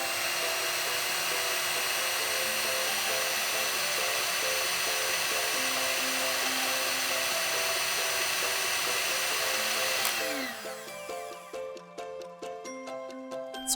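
A mixer beats butter until creamy in a large bowl for a Christmas cake, holding a steady, droning motor whine for about ten seconds before the pitch falls and the motor winds down.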